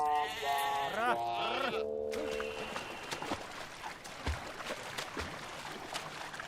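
Sheep and goats bleating close by, with several wavering, overlapping cries in the first two seconds, then giving way to rustling and scattered background noise.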